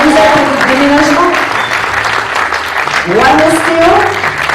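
Audience applauding sponsors at a French event, loud sustained clapping from a large crowd, with voices talking over it at times.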